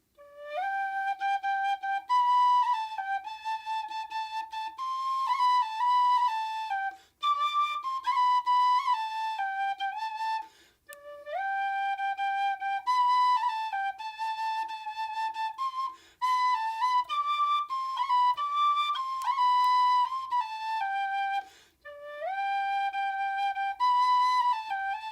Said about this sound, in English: Little Irish tin whistle for you.